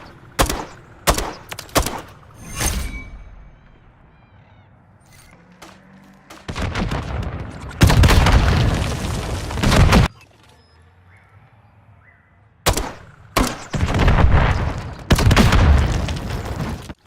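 Gunfire in Modern Warfare III on the Favela map comes in loud, sharp bursts and booming volleys separated by quieter gaps, with several sustained stretches of rapid shooting.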